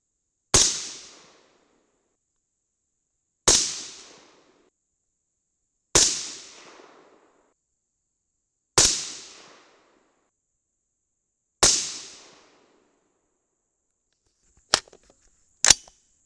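Winchester primers for a .223 rifle fire one at a time, five sharp loud cracks spaced a few seconds apart, each with a short decaying tail, then two quicker snaps with a faint clink close together at the end.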